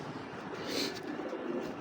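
Pigeons coo steadily and close by, a soft continuous murmur of several birds with faint chirps mixed in and no talk.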